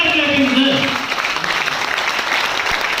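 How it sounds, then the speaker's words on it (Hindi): An audience at a motivational business event applauds loudly, a dense wash of clapping that fades slightly over a few seconds while a voice speaks briefly over it. "मैं चाहूंगा उनके लिए जबरदस्त जोरदार तालियां मार देगा"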